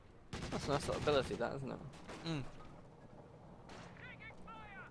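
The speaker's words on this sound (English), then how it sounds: "Takes another big shot from the Raketin." Loud artillery blasts and gunfire bursts erupt in a competitive tank battle game match, several sharp booms clustered in the first half with a whistling projectile sound later, while a commentator talks over the action.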